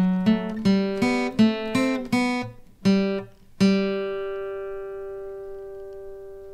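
Acoustic guitar picks out Sailor's Hornpipe at a brisk pace, single plucked notes in quick rhythmic groups with some strings stopped short, ending on a long ringing note that fades out, close and clear with no talking.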